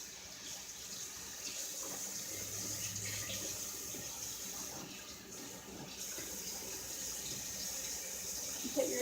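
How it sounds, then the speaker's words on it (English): Bottles rinsed under a running kitchen tap, a steady, moderately quiet stream of water with small splashes and clinks and no speech. "I always rinse my bottles before I put them in the recycle."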